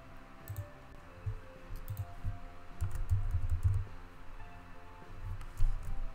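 Someone types steadily on a wireless computer keyboard, the close, soft key clicks coming in quick uneven bursts over a low background hum.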